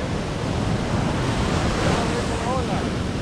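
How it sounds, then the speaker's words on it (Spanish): Ocean surf crashes and rolls continuously on a fishing outing, a loud wash of breaking waves with wind rushing across the microphone and no talking. "Cuidado con la ola que viene."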